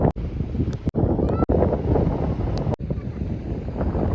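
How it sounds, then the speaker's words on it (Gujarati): Strong wind buffeting the microphone out at sea from a fishing boat, a continuous loud rumbling roar with brief dropouts, waves faintly underneath. "પવન બહુ છે"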